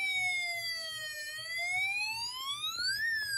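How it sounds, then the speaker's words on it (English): A Snap Circuits electronics kit plays a police car siren, a loud synthetic wail that dips slowly in pitch, then climbs back up in a continuous electronic sweep with no voices over it. "Now you hear a police car siren"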